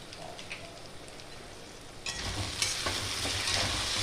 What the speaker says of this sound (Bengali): দিয়ে ভালো করে আমি একটু কষিয়ে নিব